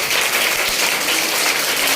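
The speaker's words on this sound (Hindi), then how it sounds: "सब लोग पहले जेडी वुमेन्स के लिए ताली बजाइए।" Audience clapping at a college induction meeting in a women's college in Patna, a dense, continuous roar of many hands applauding together, loud and close, sustained evenly with no pauses or speech.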